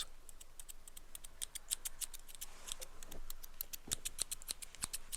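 Scissors snip repeatedly in quick, crisp cuts through folded paper for a paper snowflake, a steady run of sharp close clicks with a faint rustle of paper partway through.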